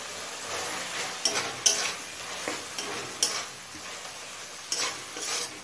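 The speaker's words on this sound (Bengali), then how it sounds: "জিরে গুঁড়োটা চিকেনের সাথে ভালোভাবে মিশিয়ে নিলাম।" Cumin powder mixed into chicken frying in a pan, the spoon scraping in irregular strokes over a steady close sizzle, with a faint high whine running through it.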